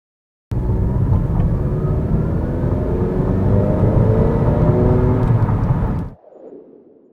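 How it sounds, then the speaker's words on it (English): A tuned 10th-gen Honda Accord with a 27WON Kuro hybrid turbo (FK8) builds to a loud, steady rising whoosh and engine roar for about five seconds. It then cuts off abruptly and leaves a faint trailing hiss. "If you're looking for the noises, if you want to hear the turbo spool up, easy."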